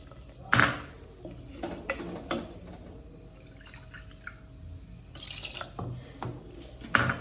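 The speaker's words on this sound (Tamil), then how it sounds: "அம்மி கழுவுன தண்ணி கொஞ்சம் ஊற்றிக்கலாம்" Water from rinsing a grinding stone splashes and drips into a pot of dry fish curry in a few short bursts, close by, with quiet gaps between the pours.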